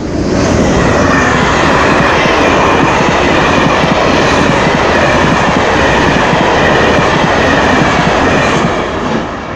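A Paris RER D commuter train pulls out of Paris Nord station with a loud, steady, close roar of wheels and motors that holds for several seconds, with no voices.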